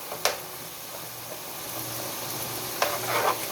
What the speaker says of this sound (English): About 2 teaspoons of tomato paste. Stir it up in there.